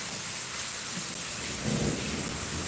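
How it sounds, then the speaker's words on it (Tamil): Thunder rumbles low through a steady rainstorm, the rain hissing evenly throughout with a deeper roll swelling near the end, no voices present. "ஓ இடி இடிக்கிறாரு இடி இடிக்கிறாரு"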